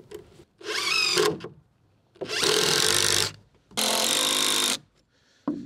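A power drill drives screws into gable end wall framing in three loud, close, whirring bursts of about a second each, separated by short pauses.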